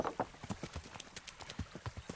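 A horse's hooves clip-clop at a walking pace in the video game Kingdom Come: Deliverance, with a steady run of distinct, fairly faint thuds and no speech over them.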